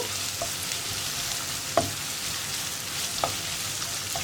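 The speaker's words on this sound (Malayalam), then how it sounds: "ഒരു നാല് മിനിറ്റൊക്കെ ഒന്ന് വഴറ്റിയെടുക്കുക" Sliced onions sautéing in a pan for egg curry, a soft continuous frying hiss with a few faint stirring clicks, fairly quiet and without voices.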